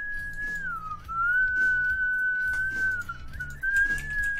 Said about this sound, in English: Can hear Chris whistling the song? It's catchy